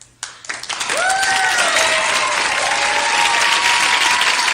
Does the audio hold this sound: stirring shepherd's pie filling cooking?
no